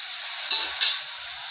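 Chopped onion being stirred in a frying pan with a dosa spoon, a steady sizzling hiss with two brief scrapes of the spoon, close and alone.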